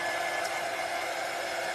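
A hair dryer blows steadily on a handmade craft bunny, a loud, even whooshing roar that holds without a break from start to finish, with no voices.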